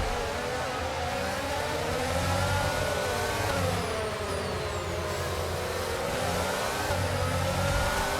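An F1 car brakes at the Marina Bay Street Circuit in Singapore, its engine note sweeping downward over a constant wash of loud broadband roar.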